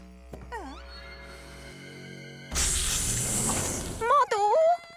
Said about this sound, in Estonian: Mulle ettevaatust, siin on madu!